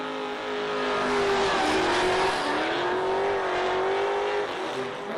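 Powerful drift cars battle on a track, engines revving hard with squealing tires as they slide through a sweeper, loud and sustained.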